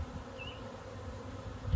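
Soft, steady honey bee buzzing at low volume, a continuous hum with a brief higher whine near the start.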